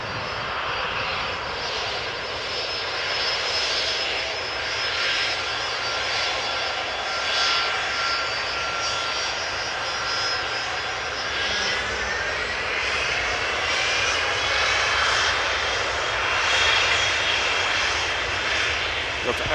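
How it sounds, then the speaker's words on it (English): Jet engines of an Airbus A330-300 taxiing at Amsterdam Schiphol Airport after landing on the Polderbaan, a steady loud roar with a whining tone, heard alone and continuously. "What you're hearing are the engines of the A330 that has just turned around the corner on the right hand side."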